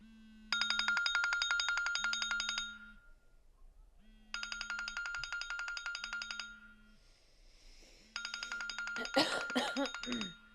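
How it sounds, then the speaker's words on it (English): A phone alarm rings in repeated bursts of a bright electronic tone, pausing between cycles, with a person's voice cutting in near the end. "The good old alarm for 6:41 in the evening."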